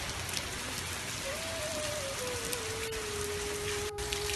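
Steady rain pours continuously, a dense hiss of drops on a surface, with a faint high tone drifting faintly above it.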